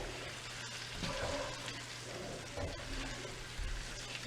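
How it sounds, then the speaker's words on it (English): Homemade carrot hair oil bubbles and sizzles softly in a pan while being stirred, a faint continuous frying hiss under a low hum. "It's starting to bubble up a bit, so you want to make sure that you stir it"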